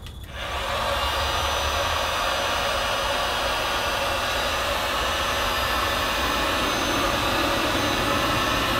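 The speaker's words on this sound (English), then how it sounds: "I've plugged in a heat gun, and I'll just put it on level 1 on the heat gun" A heat gun set to level 1 switches on and blows a loud, steady rushing hiss that holds without change, close by and alone.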